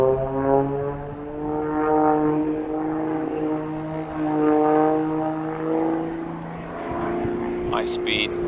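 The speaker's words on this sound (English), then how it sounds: "So that's where the aircraft is descending at its fastest rate." A propeller aerobatic aircraft flying a freestyle routine at a championship, its droning engine rising and falling in pitch as it manoeuvres, fairly distant, heard under a commentator's voice.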